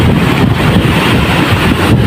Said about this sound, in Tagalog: Kusog ang hangin, kusog pong ang bawod.